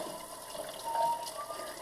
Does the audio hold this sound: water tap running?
yes